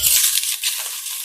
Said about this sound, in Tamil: அடுத்ததாக பார்த்தீங்கன்னா எண்ணெய் ஊற்றிக்கலாம்.